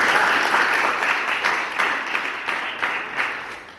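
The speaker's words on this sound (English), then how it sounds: "Let's clap in again for her." An audience at a school talent competition final claps steadily for a few seconds, a dense wash of hand claps that gradually thins and fades.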